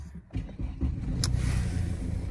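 A 2011 Mercedes-Benz C220 CDI BlueEfficiency 2.1 diesel cranks briefly and catches, settling into a steady low idle rumble close by, with no talking.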